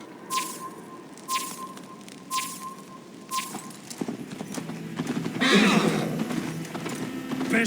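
Galloping horse hooves in Assassin's Creed Valhalla during a Viking horse race, steady clip-clop beats with a brief whinny amid game voices and ambience.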